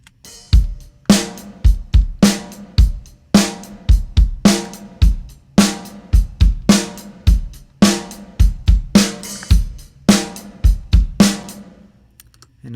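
Kick drum captured by a Warm Audio Classic condenser mic a few feet away, struck in a steady repeating pattern of about two dozen punchy thumps, heard dry and then with the room mic added, ending in a brief silence.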